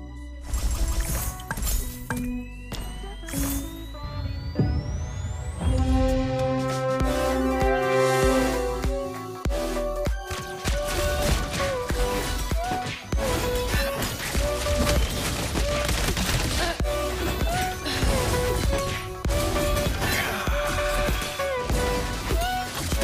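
An energy gun fires in Magic Chess Mobile Legends, a rapid barrage of sharp blasts and crashing impacts that runs loud and near-continuous over game music, after a rising whoosh early on.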